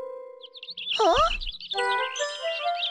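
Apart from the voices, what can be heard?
bird chirping in cartoon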